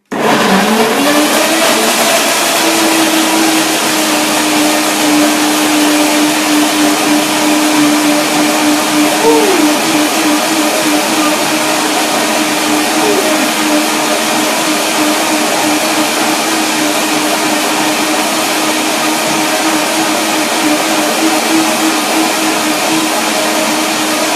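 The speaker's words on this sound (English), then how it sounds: "Blender dance now." A blender whirs steadily through raw vegan cream made with nuts, banana and cherry white chocolate, a loud continuous motor drone lasting the whole stretch with slight shifts in pitch and no talking.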